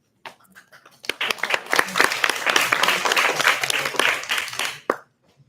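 Audience at a conference event bursting into applause, scattered first claps quickly swelling into a dense, steady round of clapping for about four seconds before cutting off sharply into near silence.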